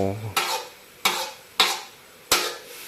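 An eight-year-old girl stir-fries cabbage with glass noodles in a pan at home, making four separate scraping clatters of the utensil against the pan, each fading quickly, with quiet gaps between strokes.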